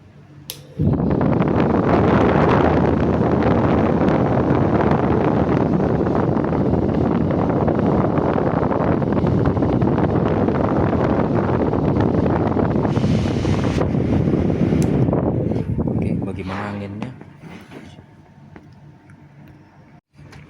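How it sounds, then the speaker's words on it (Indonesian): A battery-powered Tanzu fan running at its single speed, a loud steady close whoosh of blowing air that holds for about fifteen seconds before winding down and fading. "kipas ini cuman 1 kecepatan"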